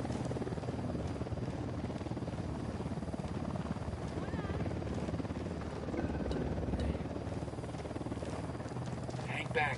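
A helicopter in the Ghost Recon Wildlands video game throbs steadily and fairly close for the whole stretch, its rotor drone constant and unbroken.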